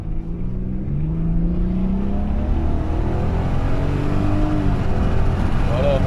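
A 2000 Jaguar S-Type with a V6 engine idles in a steady, low, even drone, close and loud throughout, with no change in revs.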